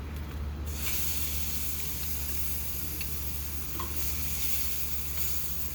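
A salmon fillet sizzles on a grill after being flipped, a steady broadband hiss and crackle running unbroken at close range with a low background hum.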